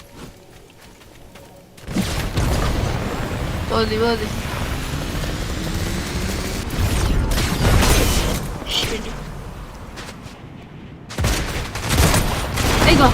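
Rapid bursts of gunfire from a shooting video game crackle through most of the clip, loud and dense, with a player talking briefly over the shots.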